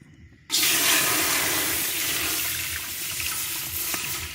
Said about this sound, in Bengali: দিয়ে দেবো হাড়িতে দুধ